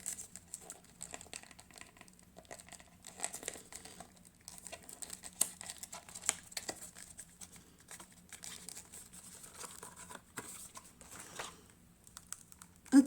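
Cosmetics packaging for a Glowdient product being torn and ripped open, a long quiet stretch of scattered crinkling, tearing and tapping, close and faint, no talking.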